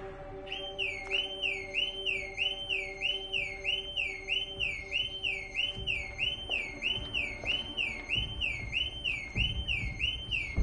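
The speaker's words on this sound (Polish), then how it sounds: "Po co włączyła się alarm?" A car alarm sounds at an open garage, its rapid warbling electronic whoop repeating steadily and loudly for the whole stretch, with faint low rumbles and thumps underneath.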